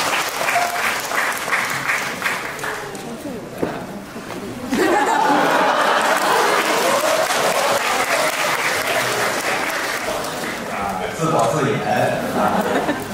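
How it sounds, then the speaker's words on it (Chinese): A live crosstalk audience in Nanjing breaks into loud, sustained applause welcoming two Deyun Society comedians, the clapping swelling midway and mixed with crowd chatter and scattered laughter throughout. "他们二位给您带来最大受招的掌声欢迎他们"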